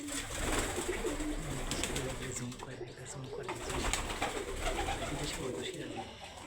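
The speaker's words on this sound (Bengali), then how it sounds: "এটা হলো বিদেশি কবুতর, নাম হচ্ছে সিরাজি কবুতর।" Several Sirazi pigeons, a foreign breed, coo on a pigeon farm in low, throaty, repeated calls that overlap continuously, with a busy flock murmur behind them.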